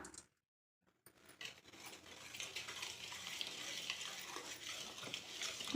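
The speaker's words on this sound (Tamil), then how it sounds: "நல்லா கலந்துக்கலாம்." Spoon stirring sweet snack batter mixed with a pinch of salt and idli soda, a soft, continuous wet scraping and swishing close by after a brief silence at the start.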